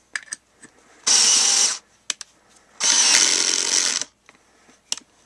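A Genesis 7.2 volt lithium-ion two-speed cordless screwdriver whirs in two short bursts, each about a second long, separated by clicks and brief handling noises.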